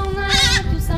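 A billy goat bleats loudly and close by, a single wavering cry lasting most of the second over a rumbling background.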